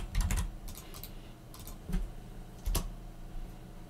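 Keys clatter on a computer keyboard in short, quiet bursts of fast typing with brief pauses between, close by, while commands are entered on an Ubuntu Linux machine.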